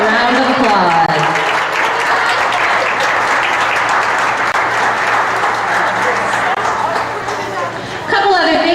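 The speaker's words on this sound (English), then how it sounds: "The Honey Eye Falls Lima seniors, please give them a round of applause." Applause for the Honeoye Falls-Lima senior swimmers and divers at a high school swim meet, sustained loud clapping and cheering from spectators and teammates, with crowd chatter mixed in and an announcer's voice resuming at the end.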